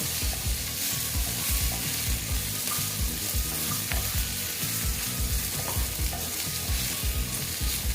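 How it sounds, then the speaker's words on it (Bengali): Potatoes frying with turmeric in oil for a vegetarian drumstick dish, stirred as they cook: a steady, close sizzle with repeated scraping stir strokes throughout, no talking. "আলু ভাজার সময় একটু হলুদ দিয়ে দিলে ভালো লাগে দেখতে"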